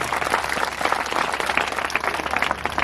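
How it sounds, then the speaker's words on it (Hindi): Audience applause at a motivational speech event, a dense sustained wash of many hands clapping at steady moderate loudness throughout, with no voices over it. "तालियां जरूर बजाइए अपने लिए"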